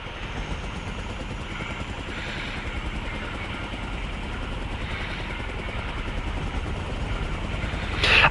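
Helicopter from War Thunder, heard as a steady, dense rotor and engine drone that holds evenly throughout, with a brief louder burst at the very end.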